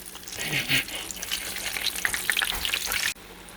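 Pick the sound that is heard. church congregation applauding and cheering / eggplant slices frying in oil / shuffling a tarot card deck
eggplant slices frying in oil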